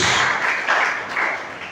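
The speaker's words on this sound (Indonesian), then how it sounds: "Beri tepuk tangan terbaik buat Tuhan Yesus." Church congregation clapping together in steady, broad applause, loud and sustained throughout with slight swells, no voices standing out.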